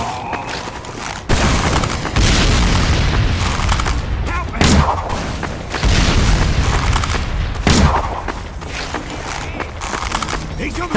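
Repeated heavy booms and blasts from bombs in the online shooter Team Fortress 2 during a multiplayer game night, loud and dense, with several explosions in quick succession and voices chattering underneath.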